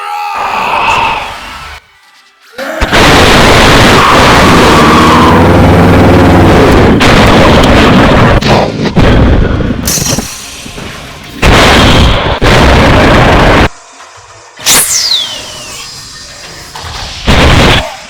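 Mouth-made explosion and energy-blast sounds for a Dragon Ball fight, loud bursts and roaring whooshes with sharp breaks, a voice imitating the blasts.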